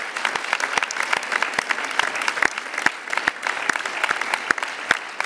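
An audience at a speech for International Women's Rights Day claps to thank council members, local officials and candidates, a steady stream of distinct, fairly close handclaps with no talking, carrying on evenly throughout.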